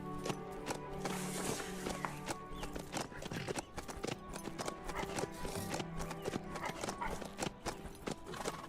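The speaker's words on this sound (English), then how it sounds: "I'm pretty sure that the horse is making those noises." Horse noises in the video game HumanitZ: a steady run of clip-clopping hoofbeats with snorts and whinny-like calls, close and fairly loud, while game music or ambience plays beneath.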